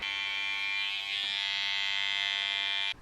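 A steady high-pitched electric buzz of a fabric shaver trimming a tufted rug, running continuously at close range, cutting off abruptly at the end.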